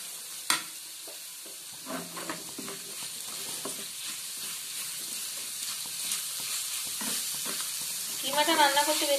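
Chicken mince sizzles and hisses steadily in a hot pan, with scattered clinks and scrapes of a spatula stirring it, fairly close and moderately loud, and a voice talking briefly near the end.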